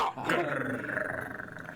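A person's voice imitates a raptor growl, a short, close, rough rumbling snarl that rises and then trails off with a wavering rasp.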